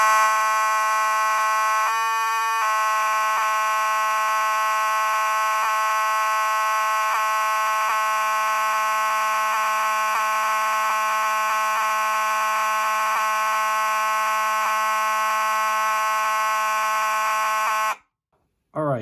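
A Gentex GMS mechanical fire alarm horn strobe blares continuously, a loud, harsh buzzing tone holding steady for many seconds, briefly stuttering early and stopping near the end.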